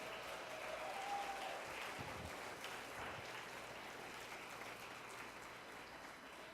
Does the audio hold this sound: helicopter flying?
no